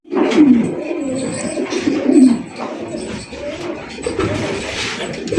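Pigeons coo in soft, low, rolling phrases at a bird market, close and fairly loud over a murmur of background noise, with a few sharper calls.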